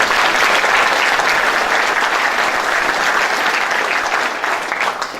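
Sustained applause from an audience at a city State of the City event, dense steady clapping that tapers slightly near the end.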